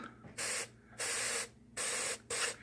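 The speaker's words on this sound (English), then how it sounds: "this right here does it. I mean, listen to" An airbrush propellant spray can fires four short, sharp bursts of hissing gas, separated by brief pauses and heard up close in a quiet hobby room.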